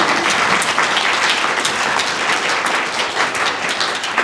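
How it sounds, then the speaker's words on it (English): Loud, dense audience applause at a closing session with an annual award, sustained evenly throughout the whole stretch with no talking over it. "Let's hear it for Zan"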